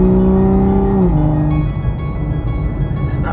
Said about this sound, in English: those are the downshifts